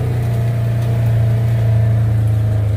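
The engine of an old Polaris Ranger utility vehicle runs close by with a loud, steady, droning hum and an even low pitch throughout. No one talks.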